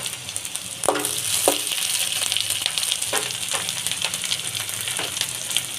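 Onions and green chillies for masala dosa sizzle loudly in hot oil over high flame, a dense close frying hiss with occasional sharper crackles and stirring scrapes, no talking.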